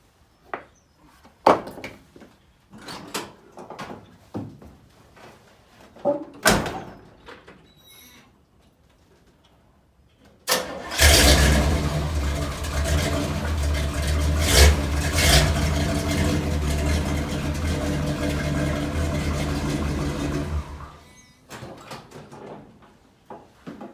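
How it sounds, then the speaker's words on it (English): Scattered clicks and knocks, then a square-body Chevrolet pickup truck engine cranks and starts, running loudly at a steady idle for about ten seconds before cutting off, followed by more light clatter. "let me pull this truck forward so I can get it up in my face here"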